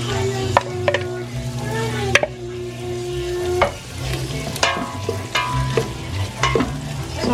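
Onion and garlic frying and sizzling in a home kitchen pan, with a steady sizzle as a utensil stirs and scrapes in repeated clanks. A hotdog cooks at the side of the pan.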